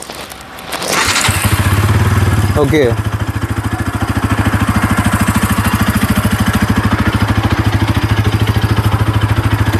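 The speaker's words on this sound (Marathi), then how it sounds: "एकदा स्टँड काढून गाडी स्टार्ट करा." A Bajaj Pulsar NS 200 motorcycle with a short silencer and about 45,000 km on it starts with a burst and settles into a loud, steady, close idle with a rapid, even pulse. A voice speaks briefly over it.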